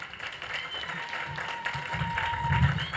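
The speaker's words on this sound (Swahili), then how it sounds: "tuwapigie makofi mengi sana" An audience applauds at the opening of a health centre in Dar es Salaam, with the clapping building over three seconds and voices mixed in beneath it.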